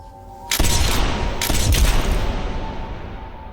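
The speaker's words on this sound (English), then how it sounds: "Kwok Wah emptied his gun into Chan until the bullets were gone." Rapid gunfire as a pistol is emptied in a film scene: a sharp loud burst, a second burst about a second later, then a sustained roar of shots that slowly tails off, with no speech.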